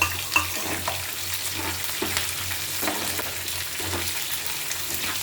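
Green chillies frying in an oil tempering for lemon rice, a steady close sizzle with light stirring scrapes and a low background hum, no speech.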